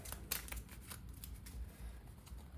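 A deck of game cards is shuffled up close, giving quiet riffling and sliding bursts with soft taps between them, low in level with no talk.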